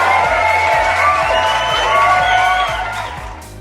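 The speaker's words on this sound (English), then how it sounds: "I love the applause." A theater audience cheers and whoops loudly for a drag performer, a dense crowd roar with shouts and whistles sustained throughout, with low rhythmic music thumping underneath and fading slightly at the end.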